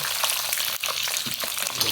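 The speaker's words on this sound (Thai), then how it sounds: "นี่ยน้ำมันเริ่มกระเด็นแล้วครับคุณผู้ชม" Pork belly marinated in curry paste deep-frying in hot oil up close, giving a steady, loud sizzle and crackle with tiny spattering pops throughout.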